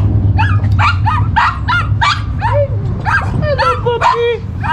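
A puppy yips and whimpers in a rapid run of high, close cries with short pauses between them, over a low steady background hum.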